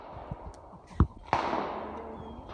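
A shotgun fires at a thrown clay target outdoors, a sharp loud blast with a trailing rumble following a softer thump, amid light background noise.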